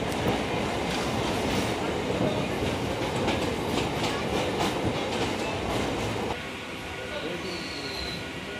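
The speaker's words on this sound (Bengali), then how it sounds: "আমাদের ট্রেনগুলো অনেকটা উপর দিয়েই যাচ্ছে" A circular railway train runs on an elevated track in Kolkata, heard from on board as a loud continuous rumble with clickety-clack of the wheels, easing slightly toward the end.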